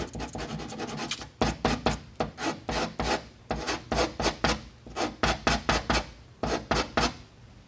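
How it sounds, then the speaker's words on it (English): A brake line is rubbed with emery cloth in quick, regular back-and-forth strokes, producing loud, close rasping scrapes in a steady rhythm with no speech. "I'm going to use a piece of emery cloth here to take off some of those major parts."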